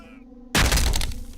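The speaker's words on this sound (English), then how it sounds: "There's a door over there I think I can break open with an axe" An axe strikes and bursts through a door in Condemned: Criminal Origins, one sudden loud splintering crash that rings out and slowly decays after a quiet moment.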